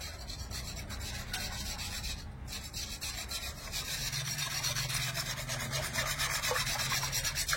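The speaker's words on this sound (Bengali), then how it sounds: "ভালো করে মিশিয়ে নেব।" Powdered milk being stirred into lukewarm water in a bowl gives a steady scraping, rubbing swirl that grows slightly louder in the second half, close and continuous with no talk.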